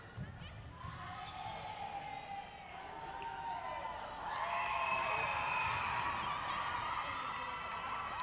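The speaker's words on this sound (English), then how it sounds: "Crowd are enjoying this matchup" A netball crowd at a Barbados versus Northern Ireland youth match cheers and whoops, swelling louder midway, with ball bounces and footsteps on court underneath.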